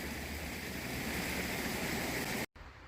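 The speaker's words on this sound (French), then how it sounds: "Le bruit de l'eau, moi ça m'apaise." Water from a small stream in the Galician countryside rushes and hisses in a steady, close wash that cuts off abruptly near the end, with no voices present.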